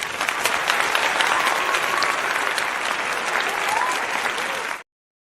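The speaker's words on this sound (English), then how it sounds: "Y'all get a round of applause off the top too." Audience applause, a dense sustained wash of clapping from a crowd holding steady for several seconds before cutting off abruptly.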